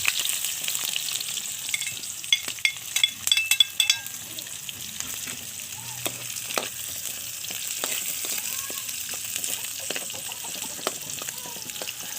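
Paklay frying outdoors in a pan, a steady bright sizzle with intermittent scraping and clinking of a utensil stirring, fairly close and alone without talk.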